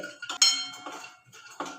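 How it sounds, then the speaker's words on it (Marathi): Cashews roast in a hot kadhai for modak, with metallic scraping and clinking of a spoon against the pan in a few short strokes, close and clear, with no talk. "काजू चांगले गरम झालेले आहेत ते काढून घेऊयात"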